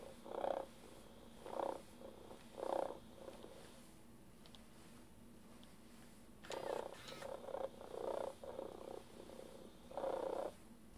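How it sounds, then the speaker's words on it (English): Soft rhythmic purring from a Joy for All orange tabby robot cat toy comes in short pulsing bursts, a few in a row, then a pause and another series, faint against a low hum. "Now, let's check its Vibra Purr."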